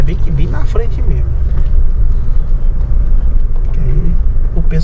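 A car slows and pulls over to park at a roadside spot, its steady low engine rumble and road noise continuing throughout while people talk over it inside the vehicle.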